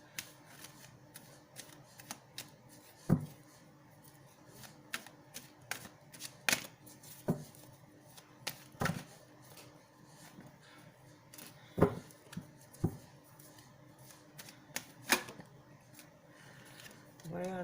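Tarot cards are shuffled close by in a quiet room, soft riffling and sharp flicks arriving in irregular bursts, while a person talks quietly between them.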